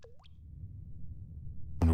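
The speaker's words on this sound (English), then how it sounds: "Where's the dripping coming from?" Single water drip in The Stanley Parable: Ultra Deluxe, a clear isolated plop with a falling pitch at the start, followed by quiet low room tone and a brief noisy burst at the very end.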